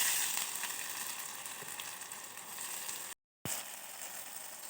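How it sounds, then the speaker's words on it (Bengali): Chopped onions sizzle steadily in hot oil in an iron wok, a continuous bright frying hiss with a brief silent break near the end. "এখন দিয়ে দেব পেঁয়াজ কুচি।"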